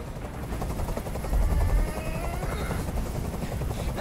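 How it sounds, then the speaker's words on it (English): Helicopter in the video game Detroit: Become Human thuds with a dense, continuous rotor chop, loud and close, joined by rapid bursts resembling gunfire. "I can't stand that noise anymore. Tell that helicopter to get out of here."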